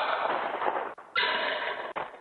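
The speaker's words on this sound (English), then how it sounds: "Residential security cameras catching gunshots when deals went south." Gunshots picked up by residential security cameras near a gang-run drug-dealing encampment in Los Feliz: two sharp, loud bursts with abrupt onsets, each decaying quickly, followed by a third shorter crack near the end, with no talking.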